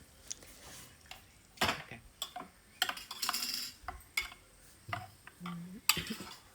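Spoon stirring homemade mango curry in a metal pot, with scattered clinks and scraping taps against the vessel at an uneven rhythm, close and moderately loud, with no talking.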